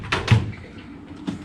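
The wide top drawer of a metal garage tool box slides open with a quick rattling scrape and a dull thud, then a softer clunk as it settles.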